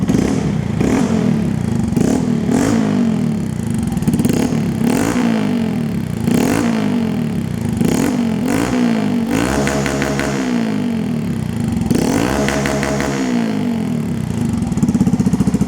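A 2025 Honda Monkey motorcycle fitted with an aftermarket AliExpress exhaust, baffle in and warmed up, is revved in repeated short bursts between a lumpy idle, loud and close, with no voices.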